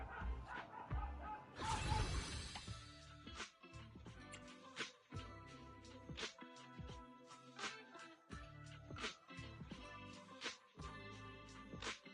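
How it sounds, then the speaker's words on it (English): A neighbour's dog barking repeatedly in short, loud bursts, with yips and whimpers between them, heard up close and alone without any talk. "Neighbor's dog, too loud."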